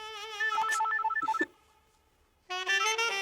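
A telephone rings in a Hindi film scene, two bursts of bright repeating electronic ringtone separated by a short silent gap, loud and close with no talk over it.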